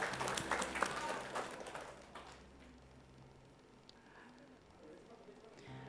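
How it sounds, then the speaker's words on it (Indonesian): Audience applause for a team at a televised high school quick-answer quiz, a dense burst of clapping that fades out after about two seconds, leaving a quiet room. "Boleh kita kasih tepuk tangan untuk regu A."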